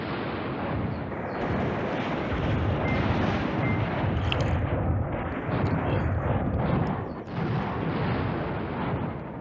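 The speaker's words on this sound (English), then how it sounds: "he's using artillery to try and drive these guys away" Continuous artillery bombardment in the wartime strategy game Command Ops 2, a dense rolling roar of distant booms and blasts running steadily through the whole stretch without talk.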